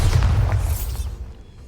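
A Bombarda spell in Hogwarts Legacy goes off as a loud, close, low boom that fades away over about a second, with no talking.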